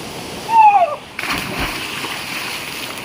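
A short high call, then a person splashes into a stream followed by a steady rush of flowing water.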